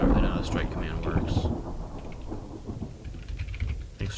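Thunder from a lightning strike in a tornado mod video game: a loud rumbling crash at the start that trails off into a lower, rolling grumble over rain-like noise.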